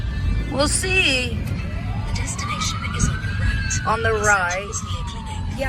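An ambulance siren wails in a long rising and falling sweep, moderately distant. It is heard from inside a car under people talking and a navigation voice.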